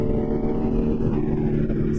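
A motorbike rides along an open road with a group of riders, its engine giving a steady, close, droning hum with slight revving and no speech.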